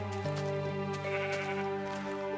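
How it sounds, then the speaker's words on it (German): Minecraft sheep bleating, a few wavering, harmonic baa calls overlapping in quick succession, clear and fairly close with no talk over them. "Habe ich gerade ein Schaf gehört?"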